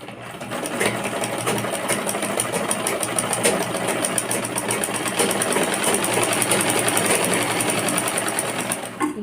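A sewing machine runs a steady stitch down the middle of a blouse fabric strip to gather it into ruffles, a loud, continuous mechanical whir with rapid even needle ticking that barely changes for the whole stretch.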